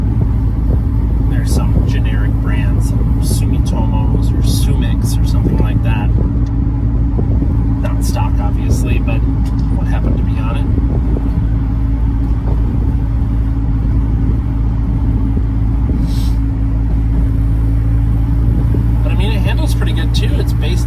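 A 1999 Honda CR-V with a 5-speed manual, AWD and skinny 205/70 15 tires cruising on the highway, a steady low engine and road rumble with tire drone throughout, under continuous talking.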